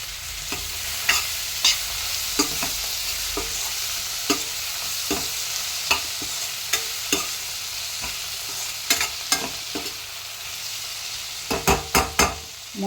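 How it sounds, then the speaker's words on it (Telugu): Two or three small chopped tomatoes cook in a lidded pan for a Godavari-style dried fish and brinjal curry, giving a steady low sizzle broken by scattered clinks and scrapes that cluster near the end. "మగ్గేంత వరకు కూడా మనము మూత పెట్టి కాసేపు మగ్గనిద్దాము."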